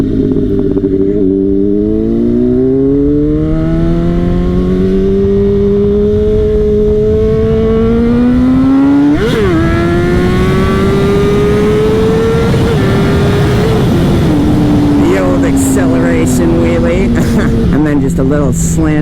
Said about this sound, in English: You just gotta wind it up. Your power's in the RPMs.